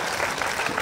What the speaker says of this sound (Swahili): tumpigie makofi vizuri